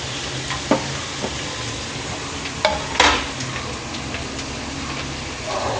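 Capsicum and cabbage stir-fried on high flame for veg fried rice, giving a steady sizzle with a few sharp utensil clinks and scrapes against the pan, close by, no voices.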